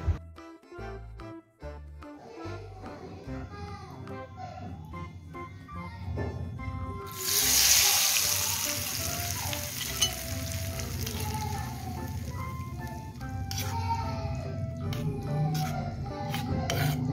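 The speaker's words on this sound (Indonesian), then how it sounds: "sekarang kita siapkan minyak panas yang sudah kita panaskan dan tinggal kita" Loud, steady sizzling bursts in as hot oil hits sambal bajak chili paste, after a few quieter kitchen clinks, then keeps crackling and hissing close by.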